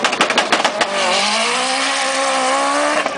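A drag race car launches hard at the 2009 Polykastro drag racing championship, tires chirping through a few short bursts before the engine settles into a loud, steady rising roar that holds close and strong to the end.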